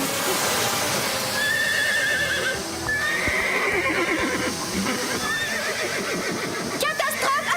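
Horses neigh and whinny loudly and repeatedly amid a chaotic farmyard commotion, with hooves clip-clopping underneath and a busy background of noise throughout.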